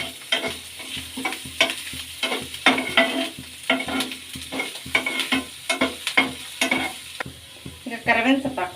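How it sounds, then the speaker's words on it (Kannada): Ginger, garlic and green chilli fry in oil while being stirred, making a loud, close sizzle with rhythmic scraping strokes that repeat every half second or so, with no voices. "ಈಗ ಶುಂಠಿ, ಬೆಳ್ಳುಳ್ಳಿ ಮತ್ತು ಹಸಿಮೆಣಸಿನ್ಕಾಯಿ ಸೇರಿಸ್ಕೊಳ್ಳೋಣ. ಚೆನ್ನಾಗಿ ಫ್ರೈ ಆಗಲಿ ಎಣ್ಣೆಗೆ,"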